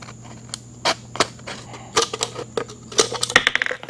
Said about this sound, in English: use a pair of scissors and go all the way around it